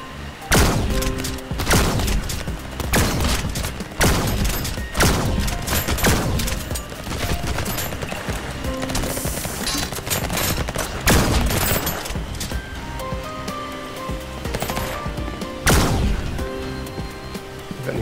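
Rapid bursts of gunfire and booming shots from the VR shooter Vertigo 2 on PSVR2, loud and dense throughout with repeated heavy thumps, no talking.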